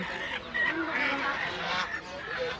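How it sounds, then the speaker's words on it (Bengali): Chickens cluck and squawk in a crowded village market in Bangladesh, nearby and mixed with background talk. "এই বন্ধুরা দেখছেন এটার ভিতরে সব পয়সা মুরগি"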